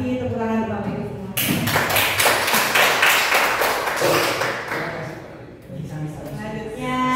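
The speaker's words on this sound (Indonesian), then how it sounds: "tepuk tangan Bapak Ibu semua" An audience of adults claps at a formal gathering, a sustained burst of dense, even applause that rises abruptly after speech, holds for several seconds, then fades as a voice resumes.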